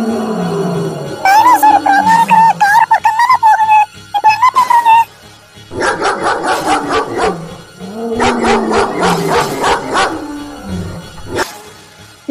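A dog barks and whimpers while facing a dinosaur in a comedy skit, a loud high whine first, then bursts of close, rough barking mixed with roaring.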